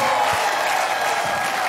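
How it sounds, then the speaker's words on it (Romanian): Audience applause at a comedy roast show fills the clip with a steady, dense wash of clapping and crowd noise, loud and continuous throughout the short stretch. "Domnilor și domnilor, aplauze"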